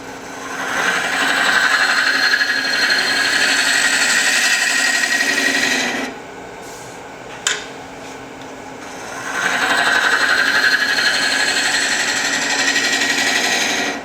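A ring tool cuts end grain on a spinning wood lathe, giving a loud, steady whirring scrape that drops out for a few seconds mid-clip with a single sharp tick, then resumes at full strength.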